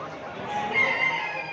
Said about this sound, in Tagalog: Manok po to.